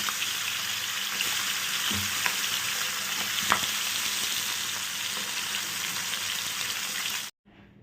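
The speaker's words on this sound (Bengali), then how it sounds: "আমি এটাকে এবার ভেজে নেব একটু কড়া করে ভেজে নেব" Salted, turmeric-coated baby bhetki fish heads fry in hot oil with a steady loud sizzle and crackle that runs unbroken before cutting off abruptly, with no talking.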